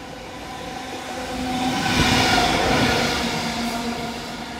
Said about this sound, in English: we actually have a light locomotive move that I didn't know about. Okay, well this is a bonus. It's a Freightliner.